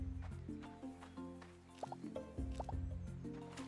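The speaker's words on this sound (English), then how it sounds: "let's see what we need to water here this morning." Crops being watered in the farming video game Roots of Pacha, several soft dripping splashes in quick bursts over gentle game background music.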